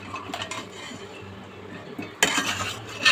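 Fried potatoes are lifted out of a pan with a utensil, making a few quiet metallic clinks and scrapes against the pan, including a brighter clatter near the end.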